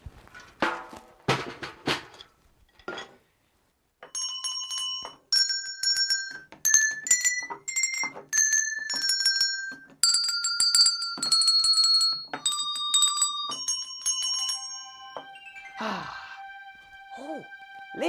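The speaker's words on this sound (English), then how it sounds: "I also found some bells." Several bells are struck one after another, with clear ringing tones at different pitches that sustain and overlap, separated by short gaps and an early patch of quick jingling, close and fairly loud.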